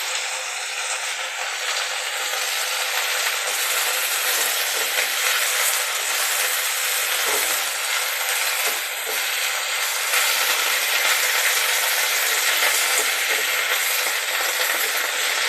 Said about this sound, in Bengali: এই তেলের উপরে দিতে এটা খুব সুন্দর ভাজা হয়ে যাবে।